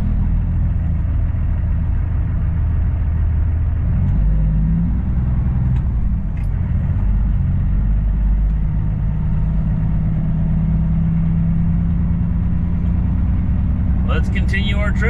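A semi truck with a trailer attached idles steadily at a truck stop, a continuous low engine rumble heard close up throughout, with a brief higher hiss near the end that could be an air brake releasing.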